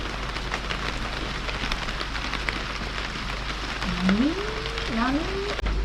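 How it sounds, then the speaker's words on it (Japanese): Heavy rain pours steadily on a mountain trail at a campsite, a dense continuous hiss throughout, with a rising voiced sound near the end. "めっちゃ降ってるやん。"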